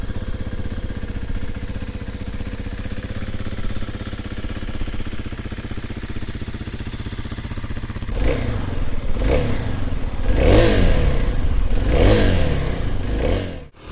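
A Kawasaki KLX300 dual sport motorcycle engine runs steadily at low revs, then surges in the low-to-mid range with several rising, pulsing rev swells, loud and close.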